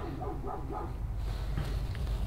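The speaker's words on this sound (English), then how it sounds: "I hope you can hear my dog outside because she's trying very hard to make sure you can." A dog barks somewhere outdoors in a short, muffled series of yips early on, faint and distant through the walls over a low room rumble.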